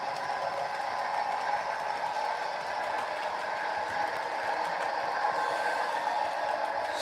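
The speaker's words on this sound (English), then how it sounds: "So let me slow down the freight so I can show you guys this really cool special boxcar" A model freight train runs on its track in a steady, continuous rolling hum with a faint metallic rattle. It sounds close and even, with no voices.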